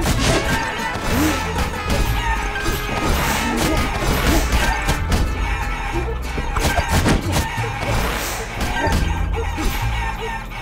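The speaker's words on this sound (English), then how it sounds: "I've been punching this chicken for a while" In the video game Guacamelee, a chicken is punched repeatedly, bringing a busy run of smacking hits and crashes mixed with squawks and clucks over a constant game music bed.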